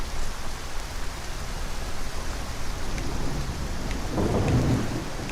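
Steady rain pours down in the Skyrim video game, a dense hiss with distant thunder rumbling throughout that swells into a louder roll near the end, with no voices.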